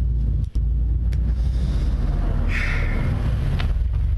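A car engine running, a loud steady low rumble throughout with a brief dropout near the start and faint higher hiss above it, no talking.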